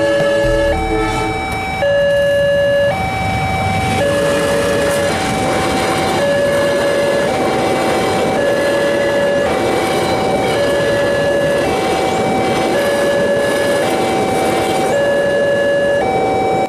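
A train passing close by near Wilangan station, its steady rolling rumble joined by a loud two-tone horn that repeats in a regular alternating pattern throughout.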